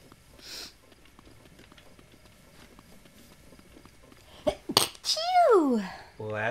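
A single close, sharp human sneeze, preceded by a quick intake of breath and followed by a trailing voiced tail, over quiet game background from The Legend of Zelda: Breath of the Wild.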